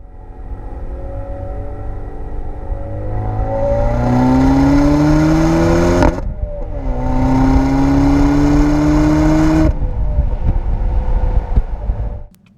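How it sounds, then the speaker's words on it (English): A 2016 Chevrolet Camaro with a 2.0-litre turbo engine accelerates hard through two gears, its exhaust rising in pitch, dropping briefly at the shift, then climbing again, loud and close, with wind rush and no talking. "when you hit that gas, the second that you shift, you hear almost like a thrust of air from the exhaust"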